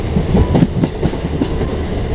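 A Nepal Railway train rolls along, heard from inside its air-conditioned coach. A loud, steady rumble carries a regular clickety-clack from the wheels over the rail joints.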